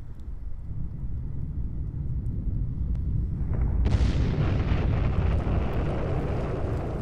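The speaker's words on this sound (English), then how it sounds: "This is what's called a stratovolcano, and it produces a very explosive eruption." A video game stratovolcano eruption: a deep, sustained rumbling roar that surges suddenly into a louder, brighter, hissing blast partway through, then continues as a dense, heavy wash of noise.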